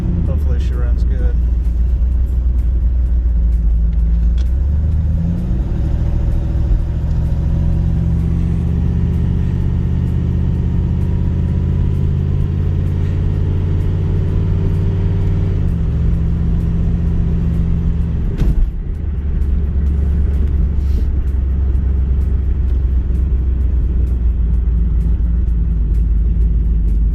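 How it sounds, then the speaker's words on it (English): A Volvo 240 on boost during a test drive, its engine rumbling loud and close from inside the cabin, climbing through gears with pitch rising and dropping at shifts across the run. "hopefully this test drive will tell us how she runs on boost"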